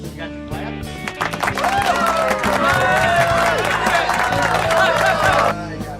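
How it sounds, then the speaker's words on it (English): A canned burst of clapping and cheering crowd plays on a show, loud and steady for several seconds before cutting off abruptly, with a voice speaking over its start. "There's the clapping."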